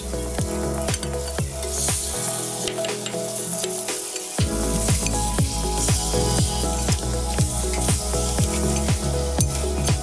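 Chicken pieces with turmeric fry in a pan and are stirred, producing a loud, close, continuous sizzle with repeated scraping stir strokes; the frying briefly softens partway before surging back, with no voices.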